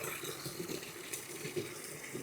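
Water runs steadily from a supply line during a washing machine leak shut-off test, a continuous moderate rush and splash with no talking.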